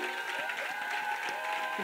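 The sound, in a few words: audience applauding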